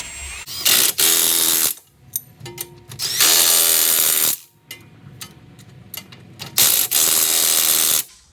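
Impact wrench on a 22 mm strut nut during strut installation on a Pontiac G8, loud and close, firing in several hammering bursts of one to two seconds with short gaps and scattered metallic clicks between them.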